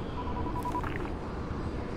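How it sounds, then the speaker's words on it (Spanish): Phone dialing tones in the video game Dying Light: a faint, short run of beeping keypad tones under steady game ambience and low background rumble. "Te voy a llamar por teléfono."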